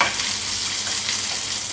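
Curry leaves fry in hot oil while a ladle stirs them, giving a steady close sizzle with soft scraping, no voices.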